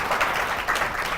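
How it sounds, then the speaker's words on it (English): Audience applause for a panel at a pastry industry forum, a steady broadband wash of clapping from a crowd that holds through the whole moment without a break. "Well, a round of applause."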